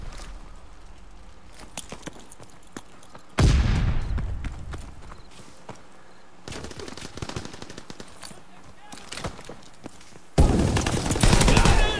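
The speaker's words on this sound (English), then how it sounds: "let me get a kill with the machine pistol." Machine pistol fire in Call of Duty WWII comes in loud, rapid bursts of sharp automatic shots, broken up by quieter gaps with faint footsteps and clatter.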